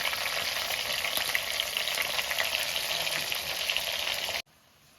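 Vigorous frying sizzle as an onion and chili paste cooks in oil, with occasional stirring scrapes, continuous and close, cutting off abruptly just before the end.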